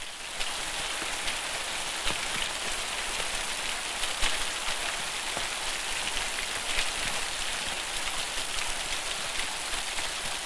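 Steady, dense rain pouring down in a Béla Tarr film scene, a continuous even hiss of drops on surfaces with occasional sharper patters, no voices.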